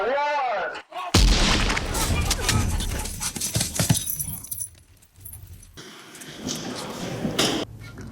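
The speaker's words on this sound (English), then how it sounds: "Another memorable moment, the shootout with police cars." Loud bursts of gunfire and heavy crashing impacts in a film shootout with police cars, dense, sustained noise with a brief lull before more shots.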